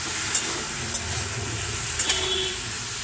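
Fish frying in masala sizzles steadily in a pan as it is stirred, a close, continuous hiss broken by a few light utensil scrapes, with no speech.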